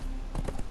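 Horse hooves clip-clop as a mounted rider moves through the Conan Exiles game world, a quick run of several close hoofbeats in under a second.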